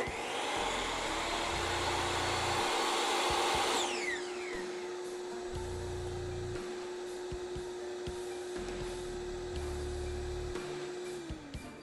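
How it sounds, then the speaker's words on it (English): A loud table saw whine cuts off and spins down, leaving a shop vacuum's steady hum running on alone for several seconds before it fades. "my vacuum cleaner stayed on for about 5 to 7 seconds after I turned off my table saw"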